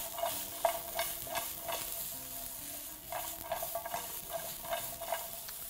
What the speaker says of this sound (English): your vegetables are now nicely cooking away